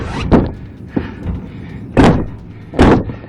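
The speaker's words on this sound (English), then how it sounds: "he repeatedly kicked the police car doors in a failed attempt to break free" A man kicks the doors of a police car from inside. Four heavy thumps and slams land at uneven intervals, loud and close, with a muffled rumble between them.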